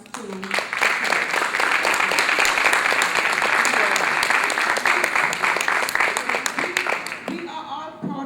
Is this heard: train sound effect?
no